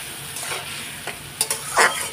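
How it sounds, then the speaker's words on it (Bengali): Fish curry masala sautéing in oil, a soft sizzle under scraping spatula strokes that grow sharper and louder toward the end, with no speech. "এখন কষিয়ে নেব"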